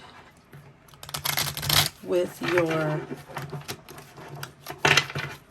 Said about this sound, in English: We are shuffling on camera.